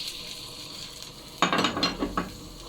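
Onion dropped into hot oil in a wok while cooking an Asian-style shrimp dish, hitting with a sudden loud sizzle and clatter partway through after a quiet stretch, then crackling and stirring in short bursts.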